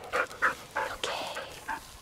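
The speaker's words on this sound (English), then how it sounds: "When he gets so excited, he barks." An excited dog pants and yips in quick, uneven bursts, close and fairly quiet, on a road trip in Colorado.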